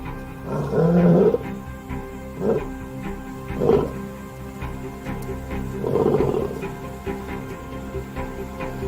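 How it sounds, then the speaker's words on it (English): A lion pride roars at night, several deep, drawn-out roars rising and falling a few seconds apart, loud and resonant over a quieter background. "The roar can be heard over 8 kilometers away."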